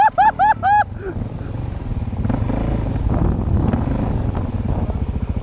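Dirt bike engine revving hard as the rider pulls a wheelie on a wilderness trail, a close, loud throttle burst with rising and falling pitch, preceded by a few short horn-like tones.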